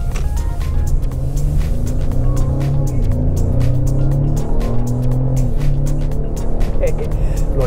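Engine of a 2025 Ford Explorer four-cylinder driving in Sport mode, a steady loud hum with rising and falling tones under continuous road rumble.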